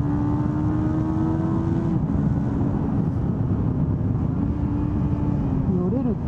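A 2018 Kawasaki Ninja 400 motorcycle riding down the main straight of the Autopolis race circuit, a steady engine drone with rising pitch through the gears, under wind rush with no talk.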